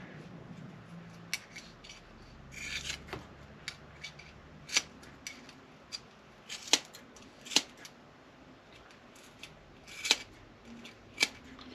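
Snipping cuts around the flange hole while a vintage speed exhaust is being fitted. Quiet, crisp clicks come one at a time at an uneven pace against a faint background.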